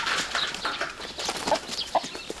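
Free-range chickens on an island farm cluck in scattered short calls, faint and fairly close against a rustling outdoor background, with no talking.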